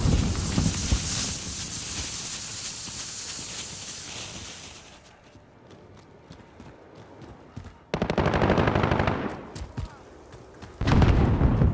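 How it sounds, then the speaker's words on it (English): Loud video game combat in a military shooter, with a grenade blast booming amid bursts of gunfire and heavy explosions, dense and near throughout with sharp loud surges toward the end. "Grenade out!"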